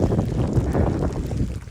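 Wind buffets the microphone in freezing winter snow on a Nevada elk hunting trip, a steady loud rumbling roar with no voices.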